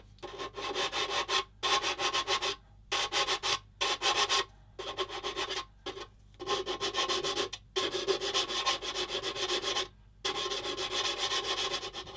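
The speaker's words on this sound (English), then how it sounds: "I might sand that in a couple of seconds, and I might do that now actually." Close, steady rubbing strokes of sandpaper on the plastic of a 1/35 Bronco Mk XXIII submarine model kit, smoothing a dented joint, in repeated bursts separated by short pauses.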